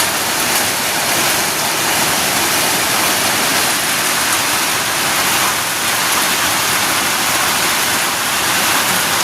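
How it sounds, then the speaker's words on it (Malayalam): Heavy rain pours outside in a dense, unbroken roar that stays loud and constant throughout, with no voices. "പുറത്താണെങ്കിൽ ഒരു രക്ഷയില്ലാത്ത നല്ല മഴയായിട്ടാണ്."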